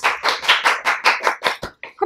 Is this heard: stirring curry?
no